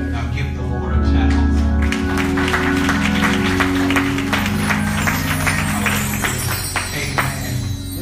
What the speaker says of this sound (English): Now give the Lord a clap.